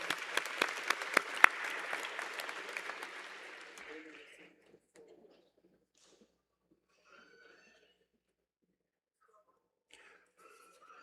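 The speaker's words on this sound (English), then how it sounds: "round of applause for Aaron and family" Audience applause at a university convocation ceremony, dense clapping for about four seconds that then fades out, leaving near-silence with faint scattered noises.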